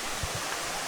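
Continuous rushing water at the fifth tier of Erawan waterfall in Thailand, a close, dense roar with a couple of low thumps underneath and no talking.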